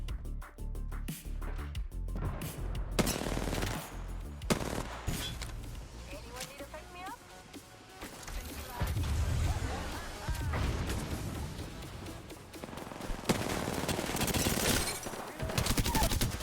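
Gunfire in Apex Legends on PS4 while playing Octane: rapid automatic bursts and single shots, plus explosions and crashes, loud and close, with players talking excitedly throughout.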